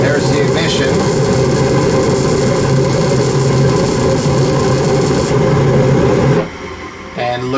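A gas furnace burner lights with a loud, steady, rumbling roar that holds for several seconds, then abruptly drops away as the flames go out, leaving quieter mechanical sounds.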